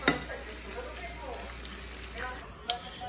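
Dried parsley and butter cooking in a pan alongside scallops and salmon, giving a steady, soft sizzle and frying hiss, with a couple of brief utensil clicks near the end.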